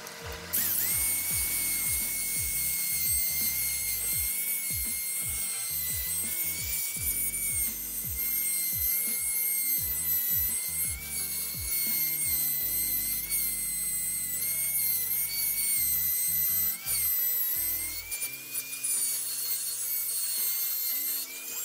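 Parts of a Yamaha Vmax motorcycle are polished with a small power tool, giving a continuous high whine with rubbing and scraping textures that shift in pitch, close and steady for over twenty seconds with no talk.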